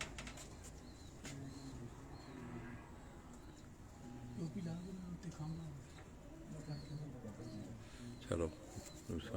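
Domestic pigeons on a rooftop loft give soft, repeated low cooing under a steady murmur of background voices, with a few faint higher chirps mixed in.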